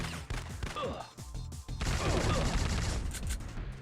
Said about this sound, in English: You can hear the grenades just falling.